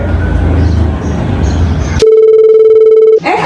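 A mobile phone call comes through as a loud, steady electronic ring tone that holds for about a second after some background noise, then cuts off abruptly.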